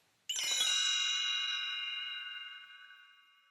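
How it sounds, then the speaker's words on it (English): A single bright page-turn chime from a vintage children's read-along record rings out alone, clear and sustained, its metallic tone slowly fading over a few seconds. "You'll know it's time to turn a page when you hear the chimes ring like this."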